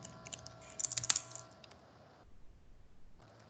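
A computer keyboard clatters under quick, light keystrokes, a short burst of close clicks that thins out and then stops.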